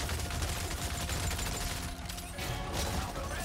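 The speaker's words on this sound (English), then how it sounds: "This assault rifle go far, you know, right?" Assault rifle gunfire in the video game Exoprimal, sustained and dense like a continuous fusillade, loud and close, with a brief dip in intensity partway through before the firing resumes.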